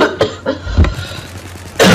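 A few sharp, close coughs in quick succession over a low background hum, ending in a louder burst, during Battlefield 4 multiplayer on PS4.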